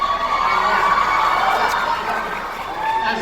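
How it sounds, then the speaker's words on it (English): A convention hall crowd at a comic fan event screams and cheers in a loud, sustained roar of many voices, with shrill shouts rising throughout. "As they scream out, "You're the best" and all that"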